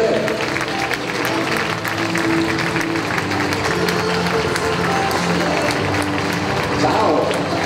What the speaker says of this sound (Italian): fate l'applauso al gruppo artistico